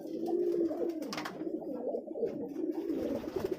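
A foreign high-flyer pigeon of the '35' breed coos in soft, low, rolling calls, close by, with faint background noise and no clear speech.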